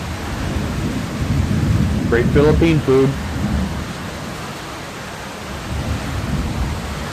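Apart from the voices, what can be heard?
thunder and rain during a thunderstorm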